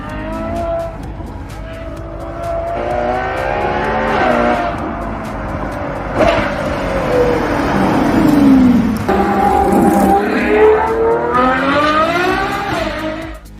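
Ferrari 812 Superfast engine revving hard with tires squealing, rising and falling engine pitch through gear changes alongside long screeching skids, loud and close throughout.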